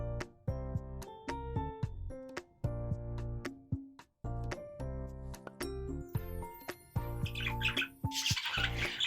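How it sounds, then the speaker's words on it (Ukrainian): Parrots sitting on their perches in a house give loud, close, repeated whistling squawks and warbling calls in short bursts, with a few chirps near the end. "Ось так сидять на своїх жердинках і виспівують."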